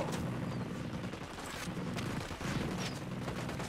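Dense bursts of gunfire in Ghost Recon crackle continuously at moderate loudness, rapid shots layered over a rumbling background.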